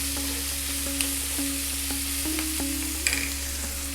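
Steady sizzling of onion frying in a hot pan for an Indian fish curry, with a constant low hum and a few light clinks of a utensil.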